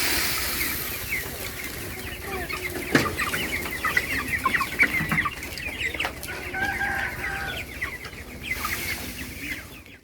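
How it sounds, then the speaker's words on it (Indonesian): Broiler chickens on a meat-bird farm in Talangjering cluck continuously as a dense flock, with occasional sharper calls standing out from the steady chatter. "Sejumlah warga di Talangjering tampak menggeluti usaha peternakan ayam potong."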